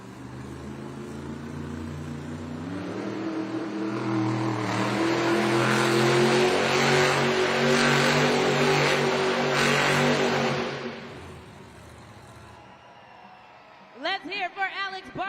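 Stone Crusher monster truck revving hard during a Monster Jam donut competition in an arena, a loud sustained engine roar swelling for about ten seconds, then dropping away as crowd noise and an announcer's voice take over.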